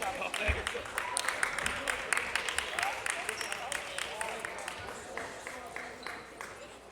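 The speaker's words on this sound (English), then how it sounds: "How about a round of applause for the great staff at Bunker Hill Community" An audience at a junior college men's basketball tournament at Bunker Hill Community College claps for the staff, a steady spread of applause with scattered sharp claps that builds and then slowly tapers, while a voice talks over it.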